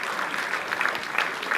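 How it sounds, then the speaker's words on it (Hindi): Worshippers at a Maha Shivratri temple gathering clap in welcome and thanks, a short, moderately quiet burst of many hands clapping steadily. "उनको तालियों से स्वागत करके धन्यवाद दे रहे हैं।"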